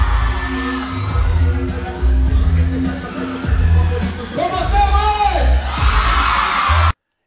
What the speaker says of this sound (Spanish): Y todos gritan, wow